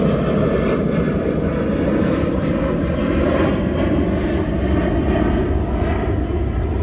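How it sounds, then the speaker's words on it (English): A fixed-wing airplane passes overhead, its engine making a steady loud drone that dominates throughout with no talking. "Fucking hate airplanes."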